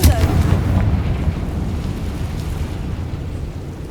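A Confringo fire spell detonates in the Hogwarts Legacy video game, a loud booming blast that fades into a rumbling, crackling tail lasting several seconds.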